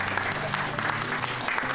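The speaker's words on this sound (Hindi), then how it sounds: "प्लीज क्लैप कर सकते हैं।" Office staff clapping together indoors, a dense, steady round of close applause from a small group, with voices faintly audible underneath.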